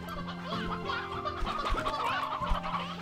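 Chickens in the Slime Rancher 2 video game cluck in quick repeated bursts, a busy layered flock sound heard alone without talk.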